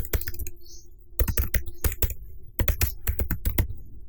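Keys clack on a computer keyboard as a Docker command goes in, in quick bursts of crisp taps separated by short pauses, close and alone.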